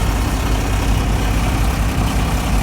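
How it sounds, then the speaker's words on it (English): A 1949 Kenworth 825 truck engine idles steadily at low RPM on a cold day, giving a continuous deep, even rumble at close range with no talking. "it starts right up nice and smooth. Idles nice at about 650 RPMs."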